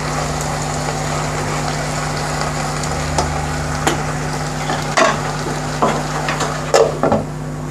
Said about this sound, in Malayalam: ഉടഞ്ഞു പോകാതെ മെല്ലെ മിക്സ് ചെയ്തെടുക്കണം